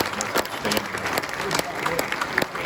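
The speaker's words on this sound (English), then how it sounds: "Give yourselves a round of applause." Applause from a staff meeting audience at a company year-end gathering, a brief burst of scattered clapping with crowd noise and some voices mixed in.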